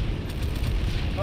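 A tank is blown up in the video game Planetside 2, with a dense, rumbling explosion roaring close and loud through the whole short moment.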